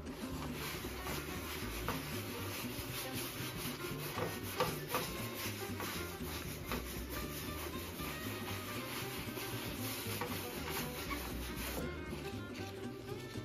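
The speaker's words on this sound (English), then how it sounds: "Right now I'm moving the ink around," Ink is rubbed and pushed into the grooves of a mezzotint printing plate with a balled wad, making a continuous close, dense scrubbing and rubbing sound with no pauses.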